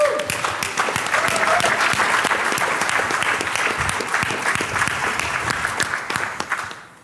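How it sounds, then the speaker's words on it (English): An audience at the BlackHat 2013 security conference applauds for Barnaby Jack, a dense, steady wash of clapping that stays loud for about seven seconds before tapering at the end. "So please give an applause to Barnaby Jack."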